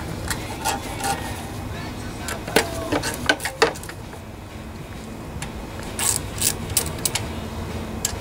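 Ratchet clicks from reinstalling the mounting bolts on a Briggs and Stratton lawnmower during a pull rope repair, short bursts of ratcheting close by, with some speech around them.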